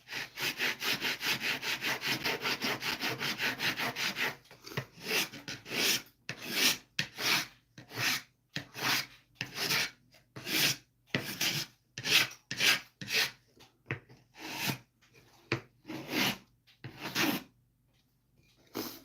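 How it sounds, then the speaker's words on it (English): A rasp scrapes wood, first in a continuous rapid grind, then in separate rhythmic strokes with brief pauses between them, close and clear. "Actually, not sanding, I'm rasping."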